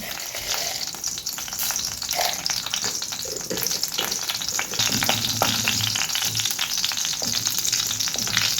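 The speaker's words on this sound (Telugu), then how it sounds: "ఆయిల్ వేడైంది ఇందులో ఇప్పుడు పోపులు వేసుకున్నాను" Tempering spices hit hot oil and fry with a dense, even crackle and spatter, close to the pan, with light stirring knocks scattered throughout.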